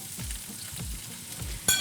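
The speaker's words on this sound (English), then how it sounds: "And you just push everything into your frying pan." Ingredients pushed into a hot frying pan sizzle with a few soft scraping pushes, ending in a sharper clatter, fairly quiet and close with no talking.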